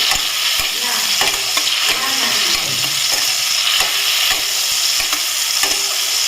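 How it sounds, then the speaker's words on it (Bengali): Green chillies fry in a pan with softened tomato for a pabda fish jhal, giving a steady close sizzle broken by repeated stirring scrapes and clicks, with no talking. "কাঁচা লঙ্কা দিয়ে দিলাম, একটু ভাজা ভাজা"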